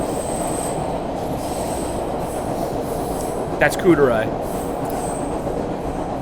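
A train rolls steadily along the rails with a constant rumble, and a short burst of wheel squeal rises briefly midway. A voice speaks quietly underneath.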